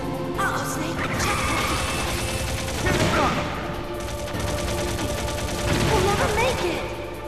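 A truck-mounted machine gun fires continuously in the video game Metal Gear Solid, loud dense bursts of rapid gunfire with crashes and impacts layered throughout, speech partly mixed in.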